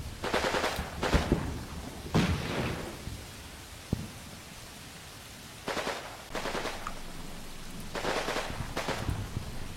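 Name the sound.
machine gun fire in a military firefight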